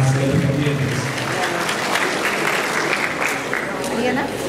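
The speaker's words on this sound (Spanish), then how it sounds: "le recibimos con las palmas correspondientes" An audience at a school graduation ceremony in Chachapoyas applauds a graduate being called up, a continuous, fairly loud wash of clapping from a large crowd throughout.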